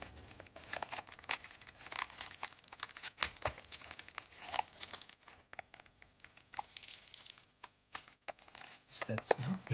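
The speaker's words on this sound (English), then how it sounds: "Take my scissors, try to cut this through, give it a small cut" Scissors cut into the packaging of a Pop Race 1:64 1972 Nissan Skyline GT-R toy car, giving close, busy plastic crinkling, snipping and tearing in irregular bursts with brief pauses.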